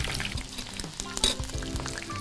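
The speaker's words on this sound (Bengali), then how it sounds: "এটা একটু ব্রাউন করে ভাজতে হবে" Chicken pieces frying in hot oil for chicken Manchurian give a steady, close crackling sizzle with small pops, with a voice heard faintly at times.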